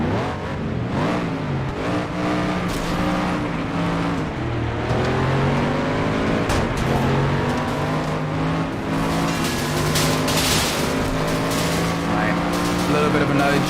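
A powerful race car in FlatOut 2 roars through its gears, the engine note climbing and dropping as it revs hard, loud and continuous, with a commentator talking over it.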